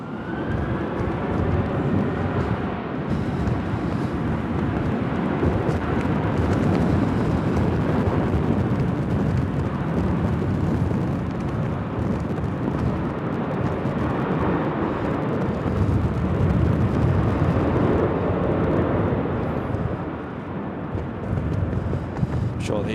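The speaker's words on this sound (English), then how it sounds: "these aircraft will be hurrying to climb up as quick as possible on the old departure, just to get above these strong winds" Jet airliners climbing out of Manchester Airport in a storm with strong gusting winds, a loud continuous broadband roar of engines and wind buffeting the microphone, steady throughout and easing slightly near the end.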